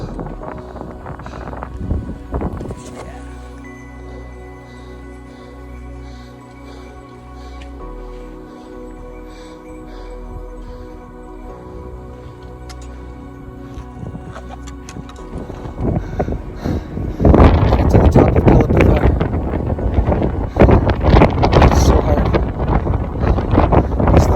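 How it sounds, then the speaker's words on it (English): Wind buffets the microphone in low rumbling gusts on a steep, cold climb on Mount Everest, growing much louder and harsher in the final seconds. "windy and cold"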